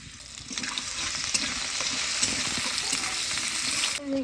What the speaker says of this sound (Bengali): তেলটা গরম হয়ে গেছে, বড়িগুলো ভেজে নিচ্ছি